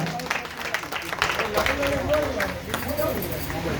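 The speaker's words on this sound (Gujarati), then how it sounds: "તાળીઓથી વધાવો" Audience clapping at a village auction, a short burst of scattered applause mixed with crowd chatter and a speaking voice over it.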